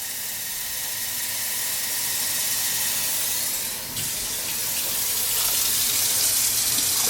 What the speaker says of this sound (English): Then we're gonna add 4 cups of water.